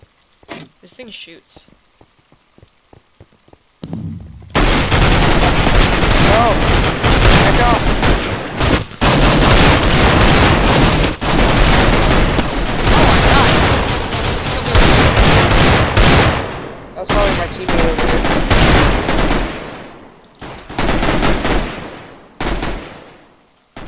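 Dense, continuous gunfire from a sniper rifle and a FAMAS in a video game pours out in loud, sustained bursts after a quiet start, with short gaps near the end.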